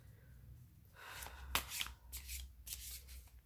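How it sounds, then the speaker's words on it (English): Tarot cards are shuffled by hand in a few quick riffled bursts, soft and close in a quiet room. "Our last card is the Outcome, so I'm gonna do another shuffle."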